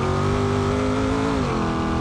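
In BeamNG.drive, a car engine revs continuously and loudly up close, its pitch holding high and then dropping briefly as it shifts gear, with no talking.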